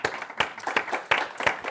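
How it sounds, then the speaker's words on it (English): An audience at an EU urban mobility panel discussion gives a short round of applause for the panelists, sparse distinct hand claps sounding at moderate distance with no talk over them. "Can we have a round of applause, please?"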